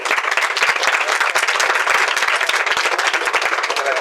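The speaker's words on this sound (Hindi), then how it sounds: "सर के लिए एक बार और आप लोग जोरदार ताली बजा दीजिए।" Loud, dense applause from a school audience honoring a teacher, steady and sustained throughout with no voices over it.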